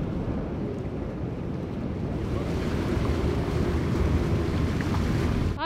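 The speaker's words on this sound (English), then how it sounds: "Current is pumping." Strong tidal current rushing through a reef entrance, heard from a sailboat as a loud, continuous wash of water mixed with heavy wind buffeting the microphone.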